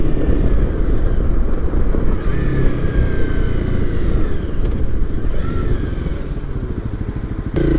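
A Honda CRF 250 Rally motorcycle being ridden gives a steady, loud engine drone with wind rumble throughout, the pitch rising and falling slightly as it shifts, near and continuous with no talk.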